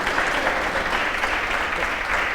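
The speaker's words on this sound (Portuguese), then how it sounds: "um aplauso para estes homens e mulheres que estiveram cá no Natal e no final do ano" An audience gives steady, continuous applause for firefighters at a gathering in Portugal, a dense even clatter of clapping hands with no voices over it.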